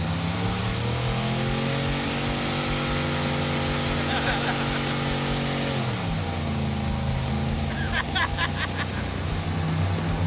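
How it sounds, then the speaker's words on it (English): A 1957 Glass Craft car with a Maserati 2.0 engine revs hard while smoking its tires, a loud sustained engine roar that shifts pitch midway, with people talking and shouting over it. "We had to go to great lengths to smoke the tires."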